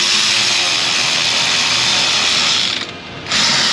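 Torque wrench clicking steadily while bolts are tightened on an engine during oil pressure work, a dense continuous ratcheting texture close by that dips briefly near the end.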